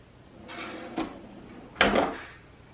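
A kitchen drawer slides open and shut in two quiet bursts, a soft rolling rub followed by a sharper wooden knock, heard alone in a quiet room.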